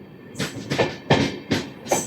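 Amrit Bharat Express train on a curve, running from Thiruvananthapuram North to Charlapalli, heard as a steady rolling rumble with five evenly spaced loud clacks of wheels over rail joints, close by and with no voices.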